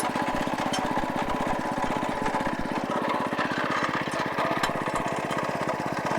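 A Champion 22-inch front tine tiller's small gas engine runs steadily outdoors, a loud, continuous rapid chugging with an even pulsing beat that stays constant throughout and carries no speech.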